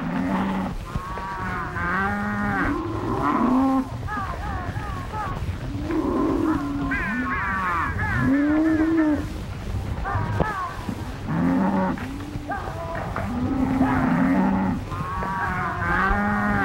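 A herd of cattle moos continuously, several low, drawn-out calls overlapping one another at moderate distance.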